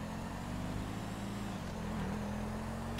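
A car in Grand Theft Auto 5 drives along with a steady, low engine drone and a slight pitch shift midway, close and continuous with no talking.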